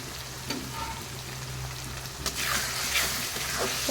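Food fries in oil in a home kitchen with a continuous sizzle and crackle, punctuated by a few stirring clatters and a low steady hum beneath, with no talking.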